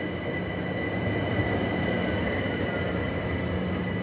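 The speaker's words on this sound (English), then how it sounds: "So this is a Bombardier class 378 Capitalstar EMU." A Bombardier class 378 Capitalstar electric multiple unit on the London Overground rumbles past close by, its wheels squealing with a steady loud roar and a high metallic whine that holds throughout.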